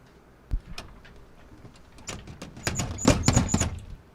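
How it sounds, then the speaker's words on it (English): Heavy steel doors rolling out of laboratory walls as a radio drama effect: a sharp thump, then scattered knocks and a rising clattering rumble with rattling metallic hits over the last second and a half, fairly close, with no talking. "Why, there are 2 doors rolling right out of the walls."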